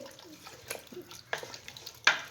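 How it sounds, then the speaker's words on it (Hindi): Water splashes into a pot of beef trotters in short, quiet bursts, ending with a sharper splash near the close. "तो अब मैं इसमें करूँगी पानी ऐड"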